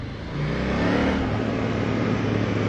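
A KTM Duke 890 motorcycle engine runs on a small country road, giving a loud, steady, close-up drone that swells slightly without breaking, with no voices.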